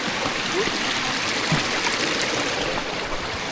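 A river in the Alps rushes steadily close by, a dense, even wash of flowing water that carries on without a break and without any voices.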